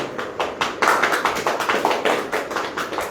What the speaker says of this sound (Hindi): ताली वाली बजेगी कि नहीं?